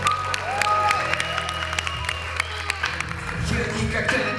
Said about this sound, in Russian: Аплодируйте, пожалуйста.